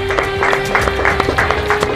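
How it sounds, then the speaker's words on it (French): A crowd claps loudly and steadily for the winner at the finale of the second season of Koh-Lanta Junior, with a sustained musical tone running beneath the applause. "Fini d'être assis, on peut applaudir."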